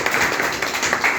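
A few people clap for a speaker at the close of an online session, with uneven, moderately close claps forming a brief patter of applause.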